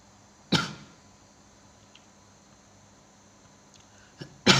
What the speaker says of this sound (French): Commence à tousser là.